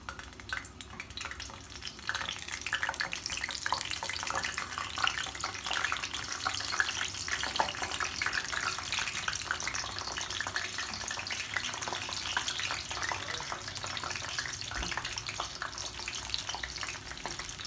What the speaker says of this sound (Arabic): حطيت الزيت وبستناه لحد ما يسخن. بسم الله الرحمن الرحيم. وبنزل الكوسايات